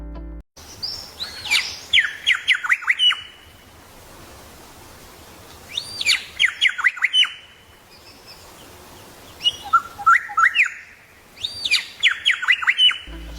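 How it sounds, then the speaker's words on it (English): A gray shrike-thrush sings three separate phrases of clear, ringing whistles, each a quick run of notes, with quiet gaps between them in an open setting. "Its voice is a clear, ringing series of mellow whistles,"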